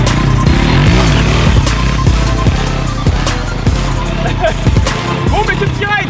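A café racer motorcycle revs hard as the rider tries a wheelie, the engine climbing and dropping through several throttle bursts and gear changes, loud and close with wind buffeting throughout.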